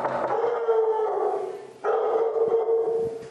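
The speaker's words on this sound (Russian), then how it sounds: "а вот и тот самый 7-месячный пес Джексон" A seven-month-old dog greets visitors at a home's door with loud, sustained howling and barking, two long wavering bursts close by with a short dip between them and no talk.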